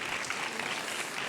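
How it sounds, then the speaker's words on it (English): Steady applause from a conference audience at a European universities gathering, a dense even wash of clapping lasting just over a second with no pauses. "big applause for both ladies."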